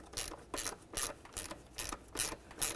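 A small ratchet snugging a bolt into the plastic purge solenoid valve on a 1999-2003 Chevy Silverado, about seven quick rhythmic clicking strokes, close and faint, no voices.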